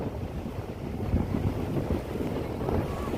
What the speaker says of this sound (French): chaque vidéo parfois on est sur la plage, il y a du vent